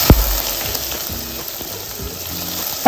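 Cumin seeds and onions hitting hot oil in a pan for a South Indian fry, a steady close sizzle with a sharp splash of ingredients added at the start and another near the end.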